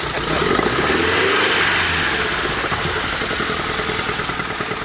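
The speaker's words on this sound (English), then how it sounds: "The excessive revving of the engine is in fact done for a good reason." A classic Italian car engine, such as an Alfa 33, Alfasud or Lancia Beta, is revved hard and continuously after standing idle, giving a loud, sustained, rough roar with no break.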